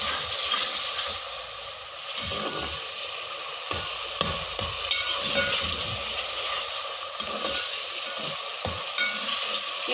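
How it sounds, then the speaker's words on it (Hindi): Garlic ginger paste and chopped green chillies fry loudly in hot oil for a lobia masala, a continuous close sizzle broken by repeated scraping stirs of a spoon against the pan. "लहसुन अदरक का पेस्ट और चॉप की हुई सब्ज़ मिर्च। इसको अच्छे से भून लेंगे।"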